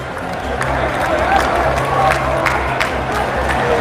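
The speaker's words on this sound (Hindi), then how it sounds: "आप सब अपनी तालियों के पुष्पों से माननीय प्रधानमंत्री जी का स्वागत करेंगे" A large crowd at a university foundation-stone ceremony greets Prime Minister Narendra Modi with applause and cheering. The noise is a broad, distant-sounding roar over a low steady hum, with some voices mixed in.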